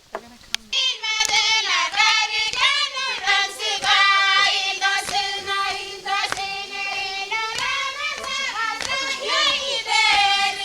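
Rhythmic hand claps keep a steady beat for a village clap dance beneath loud group singing, with sharp claps cutting through the voices.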